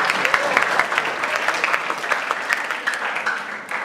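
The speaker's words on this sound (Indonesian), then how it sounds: "Tepuk tangan buat Bapak." An audience at a talk on national defence values claps for an honoured man, a brisk, fairly loud burst of clapping with no voices over it.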